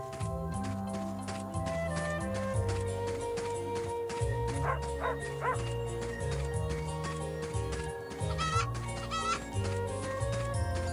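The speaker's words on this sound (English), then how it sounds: "Nice chicken." A chicken clucks in the video game Fantasian, in a few brief calls heard under steady, loud game music that plays throughout.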